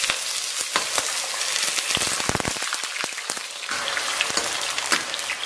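Rock sugar caramelizing in a little oil in a wok, a steady bright sizzle with dense crackling bubbles that runs continuously at close range, with no voices.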